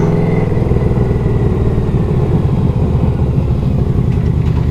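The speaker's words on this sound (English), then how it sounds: "It is a big heavy bike, but it does not feel heavy in the turns" A Yamaha Royal Star Venture V4 touring motorcycle rolls along under way, its engine a steady, loud, low throbbing drone with a slight rise in pitch as it pulls, close and continuous.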